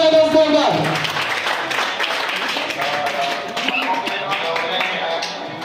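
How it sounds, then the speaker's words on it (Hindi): Audience clapping at a pharmaceutical company pinning ceremony in Bilaspur, around a cake cutting, a steady wash of claps with music and voices running underneath. "जोरदार तालियां हो जाए दोस्तों का"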